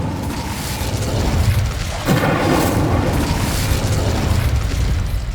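A loud Incendio fire spell blast in Hogwarts Legacy on PS5, a dense booming burst that flares up abruptly midway and then rumbles on in a roaring, crackling wash.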